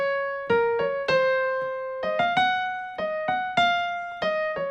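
A right-hand piano line from a song moves through a handful of sustained, ringing notes in a slow, simple loop, played up close and heard alone.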